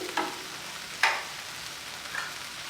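Vegetables and oats sautéing in a pan for a potato-free Spanish omelette: a soft, low sizzle with a few sharp scraping clicks of stirring, fairly quiet and without talk.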